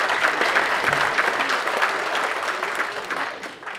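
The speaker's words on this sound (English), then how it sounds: "she deserves a round of applause as well" Audience applause at a political talk, a full, steady burst of clapping that tapers slightly toward the close.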